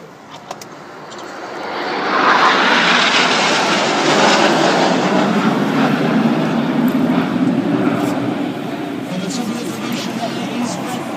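A Red Arrows jet passes close during an air display at Silverstone, its roar building after a couple of seconds into a broad, loud rush that holds, then slowly eases away.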